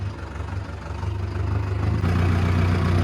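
A tractor engine idles steadily nearby, a low throbbing hum that grows slightly louder and fuller partway through, with no voices.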